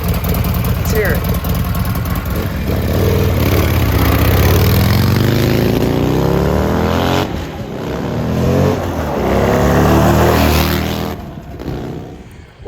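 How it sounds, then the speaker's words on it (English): Harley-Davidson V-twin engine fitted to a custom four-wheeler quad, a loud continuous idle that rises and falls through revs, close by, with voices talking over it. "It's the world's only V-twin quad."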